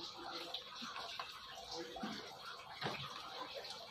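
Water flushing through the alkalizer stage of a Livpure Touch alkaline water purifier during servicing, a steady faint hiss and splash of running flow with a few small gurgles.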